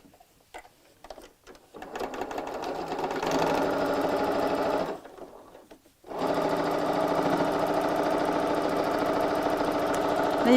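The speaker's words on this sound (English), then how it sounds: "I'm just reversing the stitches there to make that a nice strong seam" A sewing machine stitches a tote bag seam in quick rattling bursts, stopping briefly before running again as it reverses stitches to strengthen the seam; the motor drones steadily close by with no talking.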